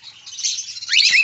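Cockatiels, including black and lutino birds, chirp and whistle at a busy bird market, a steady layer of bright overlapping calls with a few rising tweets standing out near the end.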